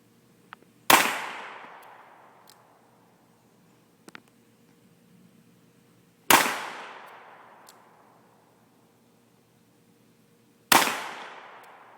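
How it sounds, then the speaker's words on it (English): Three pistol rounds fired at a target on a range, each a sharp, loud crack with a ringing decay, spaced several seconds apart against near silence. "We're going to begin by shooting 3 rounds to see where they're hitting."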